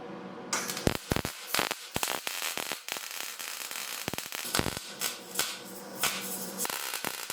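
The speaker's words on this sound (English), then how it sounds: "then give it a quick tack weld" Welder tacking a go-kart steering shaft to the frame: dense crackling, sputtering bursts of arc noise in irregular spurts, fairly close, with brief gaps between.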